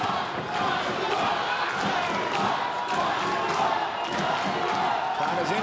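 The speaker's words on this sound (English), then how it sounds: "Crowd is into it. Cheering Oxendine, I think." Dense crowd noise fills a bare knuckle fight arena (BYB 17) during round one, a steady roar of cheering and shouting with scattered thuds throughout, loud and continuous with no clear pauses.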